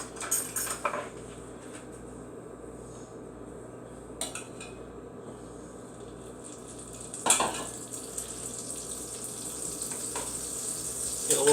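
Butter and onion sizzle steadily in a hot pan for a quiche, a soft continuous hiss with a few sharp clinks of a utensil against the pan.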